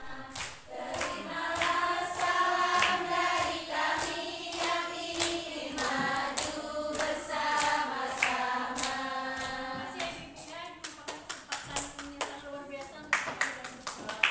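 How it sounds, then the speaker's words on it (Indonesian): Hands clapping at an early-childhood curriculum training session in Nagan Raya, a long run of dense group applause that thins into scattered individual claps toward the end. "Tepuk tangan."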